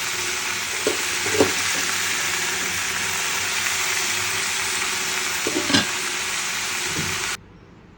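A vegetable fry cooking in a pan gives a continuous loud sizzle with occasional soft stirring knocks, steady for several seconds before cutting off abruptly near the end.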